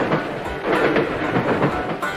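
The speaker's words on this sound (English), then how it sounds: "This is the sound of train wheels passing over the join between one rail and the next." A train rolls along the rails, its wheels clattering over the joins between rail sections in a fairly loud, rumbling rhythm of repeated clicks.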